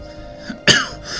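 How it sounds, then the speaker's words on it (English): A single short cough bursts out near the middle, loud and close, over faint game background sound from Stellaris. "suddenly it's brought a bit of coughing for me"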